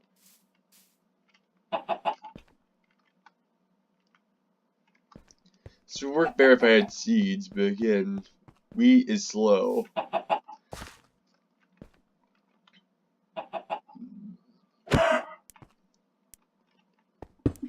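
Chickens in Minecraft give scattered short clucks between long stretches of someone talking, with soft clicks and quiet pauses in between.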